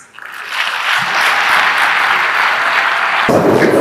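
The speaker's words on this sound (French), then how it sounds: "Nous pouvons applaudir encore un peu plus fort pour ce prix." Sustained, loud applause from a large conference audience during an award presentation, steady dense clapping that swells and continues for several seconds.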